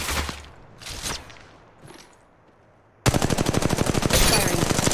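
R-301 and EVA-8 gunfire in the mobile game Apex Legends Mobile: after a few scattered thumps, a loud, rapid automatic burst opens abruptly and hammers on in an unbroken close volley to the end.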